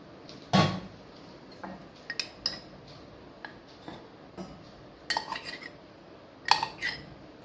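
Gram flour (besan) being measured out with a cup in a home kitchen for mirchi bhaji: faint clinks and taps of a cup and utensils against a container, scattered in short bursts over quiet room tone.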